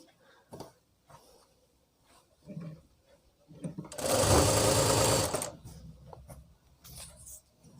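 A sewing machine stitches the seam of palazzo pants in one loud burst of about a second and a half, close up, surrounded by quiet handling noises and faint fabric rustles.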